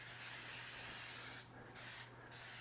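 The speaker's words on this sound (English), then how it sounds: "Get some cooking spray" Cooking spray is spritzed onto a roast turkey in two short hissing bursts, each under a second and close up, over a low steady hum.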